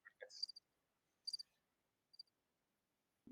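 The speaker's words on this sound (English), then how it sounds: "I've got crickets, yeah" Crickets chirping as a sound effect: three short, quiet bursts of high chirps spaced about a second apart, with silence between them and no talking.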